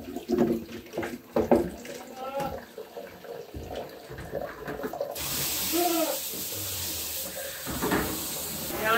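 Water from a tap splashes into a sink or bucket during cleaning of goat milking equipment, a steady hiss of filling that swells in the second half, with someone talking over the first part.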